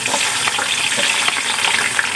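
Garlic fries in a pan as the base for chicken hamonado, making a continuous, fairly loud crackling sizzle up close with light stirring and no voices.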